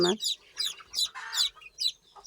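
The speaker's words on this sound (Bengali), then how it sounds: "এই যে আপনারা দেখতে পাচ্ছেন আমাদের দেশি মুরগির ফার্ম" Several desi (native Bangladeshi) chickens on a small farm cluck in short, bright bursts, close and fairly loud, a quick series of calls with brief gaps between them.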